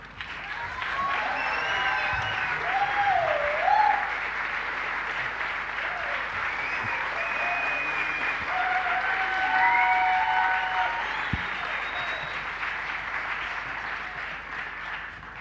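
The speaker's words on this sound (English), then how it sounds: "Round of applause" Sustained applause from a large crowd at the Wikimania 2025 opening ceremony in Nairobi, Kenya, filling the space, with faint tonal sounds drifting through and no talking.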